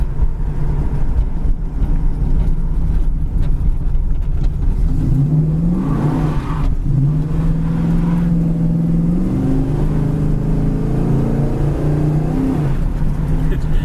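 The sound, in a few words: 1970 Dodge Challenger 318 V8 engine driving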